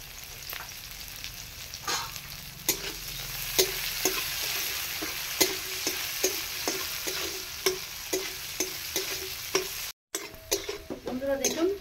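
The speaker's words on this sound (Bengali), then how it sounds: "বন্ধুরা দেখুন হয়ে গেছে বিনসগুলো ভাজা" Green beans fry in a pan with a continuous soft sizzle, punctuated by regular sharp clacks of a spatula stirring, one brief dropout near the end before the stirring resumes.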